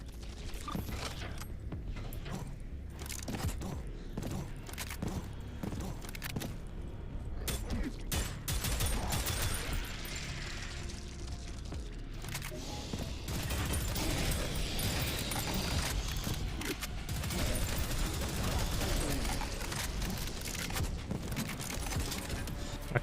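Sustained loud combat in the retro shooter Prodeus, with rocket blasts and gunfire crashing over mechanical clanks and ratcheting noises, continuous and dense throughout.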